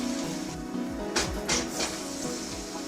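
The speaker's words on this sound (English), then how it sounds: "I'll slowly place the fish onto the hot pan." Fish laid into a pan heated with two to three tablespoons of oil over medium heat, giving a steady frying hiss with a few brief louder sizzle bursts as the pieces go in.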